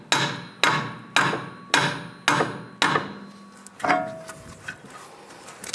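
Five sharp hammer taps on a Volkswagen Beetle axle ring out at an even rhythm, each hit ringing briefly, followed by a few softer knocks and clanks of metal parts settling in a quiet garage.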